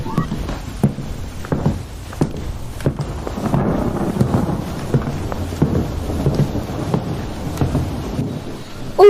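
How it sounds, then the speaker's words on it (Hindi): Heavy rain pours down steadily with repeated sharp cracks and rumbles of thunder, loud and close, the downpour filling the whole scene. "इस वक्त अब तो काफी ज्यादा तेज बारिश हो रही है"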